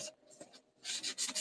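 A sanding block scrapes over wood in short rasping strokes, a few light ones then faster, firmer passes, up close with no talking.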